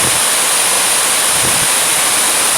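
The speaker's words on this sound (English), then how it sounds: "Water really is one of the most relaxing noises." Water rushes continuously like a waterfall, a loud, dense, unbroken hiss that fills the whole stretch without pause or change, with no voices.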